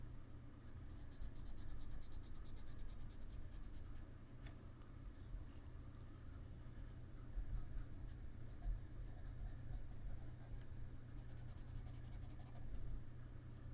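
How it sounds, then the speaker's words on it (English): Pitt Pastel pencil scratching across a gessoed surface, a faint, steady dry rasping of close strokes over a low background hum. "Pitt Pastel. So scratchy, scratchy, scratchy."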